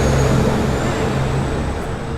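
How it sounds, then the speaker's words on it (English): A noisy truck passing on a road: a loud, steady rumbling engine with a low droning tone that stays strong throughout, heard alone without talk. "very noisy truck."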